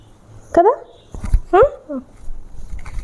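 A dog gives two short, high whimpering cries, close by, with quiet shuffling in between.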